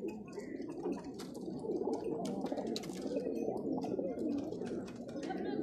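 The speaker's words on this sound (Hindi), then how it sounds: "ए वकार वाला जमसरा कबूतर" Pigeons coo in a loft or enclosure, a continuous soft throaty warbling with overlapping calls from several birds, steady and fairly close throughout.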